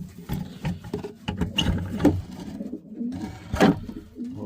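Pigeon in a backyard loft cooing in repeated soft low bursts, with shuffling and small knocks around it, close and moderately loud.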